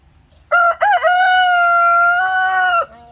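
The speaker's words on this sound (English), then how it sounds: "Hey, Romeo, are you talking to the neighbor rooster?" A nearby rooster crows one long, loud cock-a-doodle-doo that opens with a couple of quick broken notes and then holds a sustained call before cutting off, with no talk over it.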